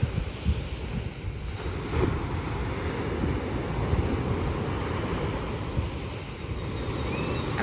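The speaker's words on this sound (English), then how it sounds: "These waves are crazy." Ocean surf breaks steadily on a beach in Mexico, a continuous rushing roar with gusts of wind buffeting the microphone and no voices.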